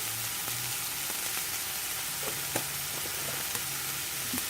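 A Greek omelet with thyme fries quietly in a pan, giving a soft, even sizzle with a few faint ticks and pops throughout.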